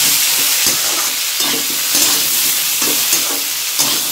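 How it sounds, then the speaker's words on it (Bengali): Mustard seeds and curry leaves fry in hot oil for a South Indian masala dosa filling, a steady close sizzle with soft crackles and light stirring scrapes, no talk. "এই সর্ষে ফোড়ন আর কারি পাতা, আমার এখন সব ভাজা হয়ে গেছে"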